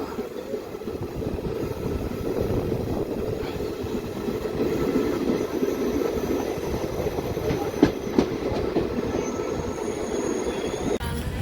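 DEMU local train pulling out of a station on the Kacheguda to Karimnagar line, a continuous close rumble of wheels and carriage noise with faint squeals and a few sharp clicks, steady throughout with no talk.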